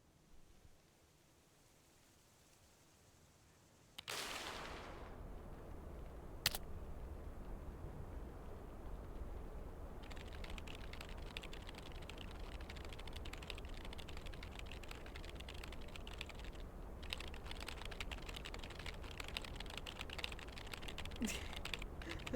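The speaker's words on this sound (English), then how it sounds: "I love the typing emotes, it's so funny" Typing emote sound effects from the Cosy Delivery dating sim game: a dense, steady patter of soft keyboard-like clicks that starts partway through and continues over a faint hiss, with no voices.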